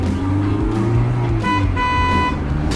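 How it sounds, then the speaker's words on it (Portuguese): A car horn honking loudly and steadily for about three seconds, with a pitch change partway through over a low engine rumble. "A maior parte das buzinas de carro é afinada em Fá."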